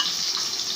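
Chopped onion sizzles in hot ghee, a close, steady hiss of frying for ghee kuska, brief and continuous.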